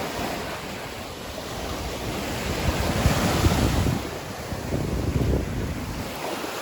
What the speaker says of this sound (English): So let's take a walk down to the sea then, see what the water's like.